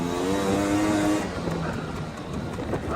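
A 1990 Honda Pilot off-road vehicle drifts through a turn, its engine revving loud and close with a rising whine that eases into a rougher, gravelly rumble as it slides.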